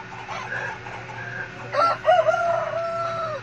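Farm chickens cluck softly, then a rooster crows clearly and fairly close, with a drawn-out call over a low steady background hum.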